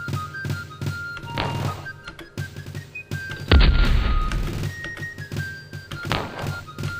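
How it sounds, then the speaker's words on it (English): Cannon and musket fire as dragoons attack artillery in the video game Colonization, with soft thunks and a heavy boom partway through over background game music, no talk. "Dragoons attacking my artillery."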